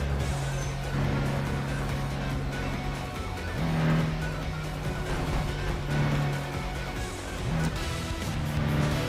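A Miata's engine drones steadily at racing speed in the video game Tokyo Extreme Racer, holding a sustained tone that rises and drops with gear changes, loud and close, with faint tire noise underneath.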